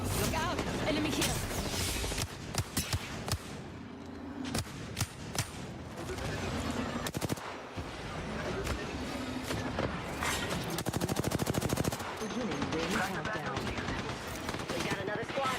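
Rapid automatic gunfire bursts and single shots from the video game Apex Legends, loud and dense across the whole stretch, mixed with in-game effects and brief voice callouts.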